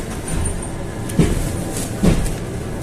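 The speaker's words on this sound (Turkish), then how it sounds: "Şimdi modaya gitmek için tramvaya bindik" Steady rumble of a tram ride toward Moda in Kadıköy, with low rolling noise throughout and two brief clunks from the wheels or carriage.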